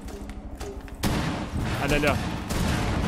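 Gunfire in Rainbow Six Siege, a dense burst of rapid shots breaking in abruptly and continuing loudly, while a player speaks over it.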